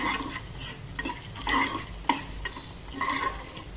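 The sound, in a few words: stirring lemon rice tempering with turmeric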